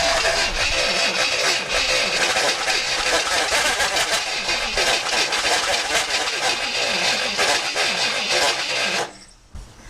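A long-dormant 1964 Chevrolet Impala engine, sitting for some 40 years, runs loud and steady with a rough, rattling texture throughout, then cuts off abruptly near the end.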